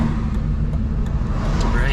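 A used car's engine idles smoothly and steadily close by, a low continuous rumble that holds even throughout, with no clear revving.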